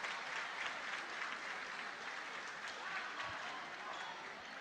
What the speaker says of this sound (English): Gets a nice round of applause from the hometown crowd.